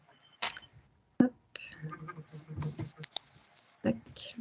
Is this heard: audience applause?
no